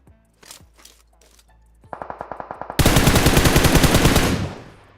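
Gunfire in the mobile battle royale game PUBG Mobile: a few scattered shots first, then a quick run of single rounds, then a loud, dense automatic burst that runs for about two seconds and fades out at the end.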